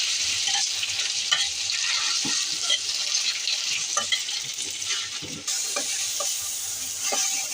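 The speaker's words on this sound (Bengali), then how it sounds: "এখন বাকি উপকরণ দিয়ে একটু ভাজবো" Onion and spices fry in a pan while being stirred, so a continuous sizzle runs under scattered scraping and clinking of the utensil, with no talking.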